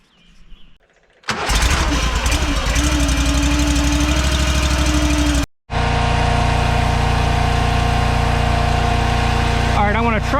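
A firewood processor's heavy engine roars loudly and continuously while processing crooked logs, cutting out for a moment before resuming its steady drone, with a brief rattling near the end.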